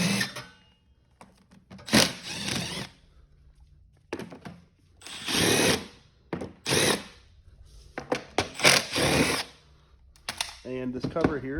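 Cordless power drill with a 10mm socket spinning cover bolts off a Toro TimeMaster mower, several short whirring bursts separated by pauses, with a ratcheting click near the end.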